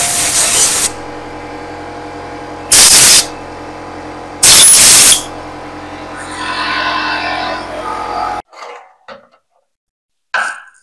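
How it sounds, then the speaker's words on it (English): Green Rust Check aerosol sprayed down bolt holes in an engine casting: two short, loud hissing spray bursts over a steady hum, followed by softer rustling and a brief noise near the end. "I'm going to spray it down the holes these bolts go into, the holes in the casting on the engine"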